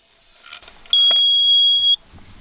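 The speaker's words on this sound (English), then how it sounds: "This unit will give 3 short beeps at the 29th reading and 1 long one" Handheld grass measuring unit used to gauge pasture cover, giving one long, loud, steady electronic beep lasting about a second, with faint handling noise and rustling around it.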